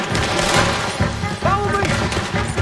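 Rapid gunfire bursts from a Red Dead Redemption 2 shootout, loud and continuous with heavy booming shots, while characters shout over the fight.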